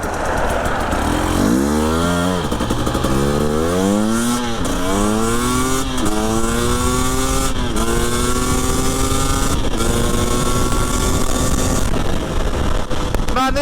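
A 2020 Husqvarna TE300i enduro motorcycle ridden on the road, its engine loud and close, revving up through several rising gear pulls before settling into a steady drone over constant wind rush.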